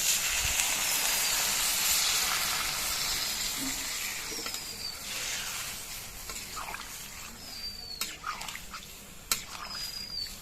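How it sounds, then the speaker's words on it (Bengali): Curry broth poured into a hot pan of elephant foot yam curry hisses loudly at first, then settles into softer bubbling and simmering with a few scattered clinks, heard close with no speech. "এবার ঝোল দিয়ে দিচ্ছি"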